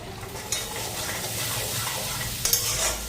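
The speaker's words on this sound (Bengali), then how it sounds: "তেলটা গরম আছে দেখো তেলের মধ্যে পাঁচফোড়নও দিয়ে দিলাম" Panch phoron spices hit hot oil in a heavy iron wok, giving a loud, close, continuous sizzle and crackle with brief sharper spits near the start and end. No speech is heard.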